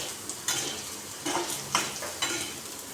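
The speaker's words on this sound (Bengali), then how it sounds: "পেঁয়াজটা আমি এখানে বেশি লাল লাল করে ভাজবো না, জাস্ট একটু ভাজা হবে ওই রকম করে ভাজছি" Onions frying lightly in a pan sizzle steadily while a spoon scrapes and stirs in a few regular strokes, close and clear, with no talking.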